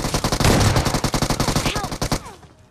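Gunfire in the BGMI battle-royale game: a close, loud run of about two dozen quick shots in steady rhythm that cuts off abruptly.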